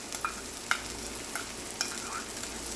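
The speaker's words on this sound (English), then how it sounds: "now we're going to add in our garlic into this" Garlic stirred into a pan of frying Hatch green chile sauce, a soft steady sizzle broken by several light scraping stirs, close and moderately quiet with no talking.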